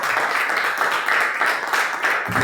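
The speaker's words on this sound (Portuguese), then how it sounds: "Vamos aplaudir o Senhor nessa noite." A church congregation applauding together during a worship service, a dense steady wash of clapping that holds throughout the short stretch without pause.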